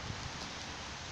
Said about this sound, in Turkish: yağmur çok arttı.